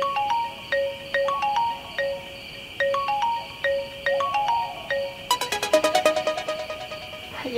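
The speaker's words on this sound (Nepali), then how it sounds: "कसको फोन हो बुढी, उठाउन" A mobile phone ringtone chimes in a repeating melodic pattern, close and clear, then shifts into a faster, denser run of tones near the end; no one speaks over it.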